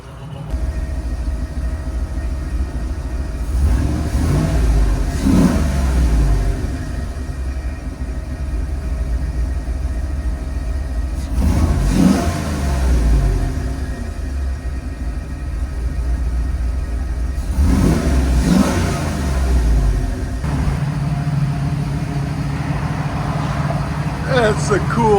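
A 1983 Jeep Scrambler with an LS-swapped 5.3L V8 heard from inside the cab, low exhaust rumble rising in three distinct revs over a steady idle, loud and close.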